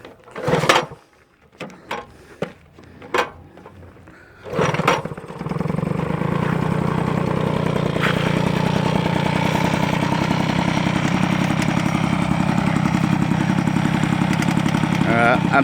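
A Peugeot 103 SPX Phase 2 moped takes several sharp kickstart attempts, loud sputtering pops separated by pauses, before the small two-stroke engine catches and settles into a steady, even idle, close and loud. Brief voices are heard around the attempts.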